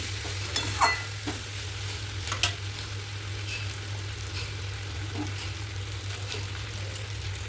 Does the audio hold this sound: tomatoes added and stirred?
yes